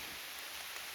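Steady rain falls outdoors around a freshly painted chicken coop, a dense even hiss of drops filling the short moment with no voices.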